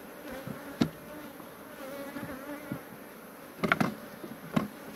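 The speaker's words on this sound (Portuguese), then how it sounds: "E a abelha pro lado de fora." Bees buzzing in a steady hum around an open beehive with honey-filled supers, with a few louder passes as bees fly close to the listener.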